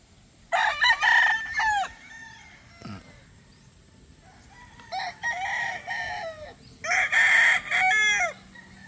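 A young rooster (stag) crows loudly and nearby in three long, strained bursts separated by pauses, with faint farmyard background noise between them.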